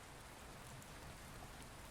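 Steady rain falling on a surface, a dense, even hiss of drops with no breaks, continuous and fairly soft throughout.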